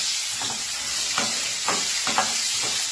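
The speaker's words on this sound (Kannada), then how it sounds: "ಈಗ ಮಾವಿನಕಾಯಿ ಹೋಳೆಲ್ಲ ಹಾಕೋಬೇಕು. ಹಾಕಿ ಚೆನ್ನಾಗಿ ಫ್ರೈ ಮಾಡ್ಕೋಬೇಕು" Raw mango pieces frying in a pan with asafoetida, giving a close, steady hiss of oil with a few spaced stirring strokes.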